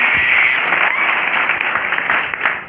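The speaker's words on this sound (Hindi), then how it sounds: "आपकी जोरदार तालियों से वापस कवि को आमंत्रित कीजिए" An audience at a Hindi poetry gathering (kavi sammelan) gives loud, dense, sustained applause, a continuous roar of many clapping hands close by with no talk over it.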